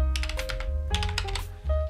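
Fingers type on a computer keyboard, a close, crisp clatter of rapid keystrokes in quick bursts with brief pauses, with no voices.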